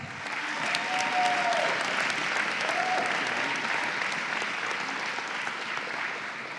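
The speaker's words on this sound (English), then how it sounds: "Give him a round of applause." A crowd gives sustained, steady applause for youth male archer Owen Frohmader of Cedarburg, Wisconsin, at the 2023 Lancaster Archery Classic open finals. The clapping is dense and even throughout, with faint voices underneath.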